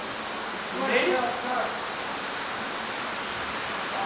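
Rushing water at the Maakua Gulch waterfall in Hawaii, a steady broad roar filling the whole clip, with a faint voice briefly heard over it near the start.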